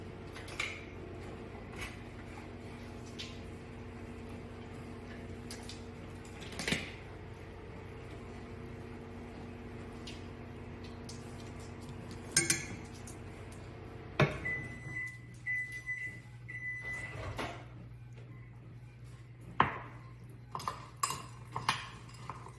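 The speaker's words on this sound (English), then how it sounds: "I'll take it out, stir it" A spoon stirs melted chocolate chips in a bowl, giving faint, sparse clinks and light scrapes against the bowl over a steady low hum in a quiet kitchen.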